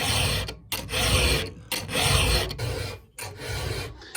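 A round file sharpens a chainsaw chain in repeated close, gritty rasping strokes, about five in a steady rhythm with short pauses between, and no talking.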